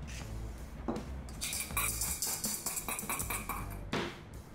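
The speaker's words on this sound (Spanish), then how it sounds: "Salpimentamos al gusto y vamos batiendo y añadiendo poco a poco la mantequilla clarificada" Béarnaise sauce being whisked by hand while clarified butter is added bit by bit: a close, busy run of rapid metal whisk clinks and scrapes against a bowl, with short pauses between bursts and no talking.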